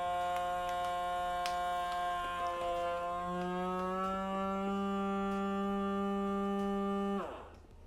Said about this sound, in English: I'm going to put it inside the vacuum sealer and just run it on the normal vacuum seal